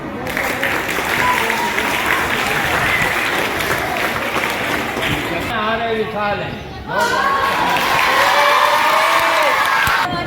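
Audience at a children's assembly (bal sabha) in Narwal claps loudly and continuously with scattered cheers and crowd noise, while a voice speaks over the applause.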